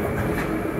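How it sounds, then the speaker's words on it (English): A London Underground Jubilee line train rumbles past in a short burst, steady broadband rolling noise close by, no voices. "We have a Stratford bound train, a train to the Aldgate over there."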